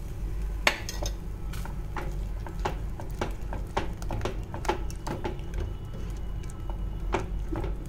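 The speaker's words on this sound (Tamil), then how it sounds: "இது ஒரு 2 மினிட்ஸ் நம்ம இப்படி கைவிடாமல் கிளறலாம்" Payasam with milk kozhukattai and jaggery stirred in a pot on a stove at low heat, a spoon scraping and clinking against the pot in steady repeated strokes, close and fairly quiet, with no talking.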